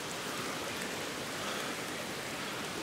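Rain eases off after a heavy storm at a forest tent camp, with water dripping from the trees. It makes a steady, even hiss that fills the whole clip, with no voices.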